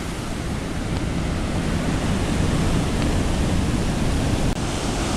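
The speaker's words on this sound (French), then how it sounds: "Voici l'océan Pacifique." Pacific Ocean surf breaking on a beach, a steady loud wash of waves with wind rumbling across the microphone, continuous throughout with no talking.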